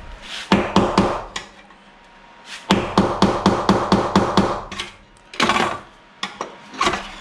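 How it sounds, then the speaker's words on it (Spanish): Sharp hammer blows on a metal part in a BMW E36 engine bay ring out in quick rhythmic runs, a few strikes, a pause, then a long fast series and a few final hits. "A ver si el otro sale con martillo."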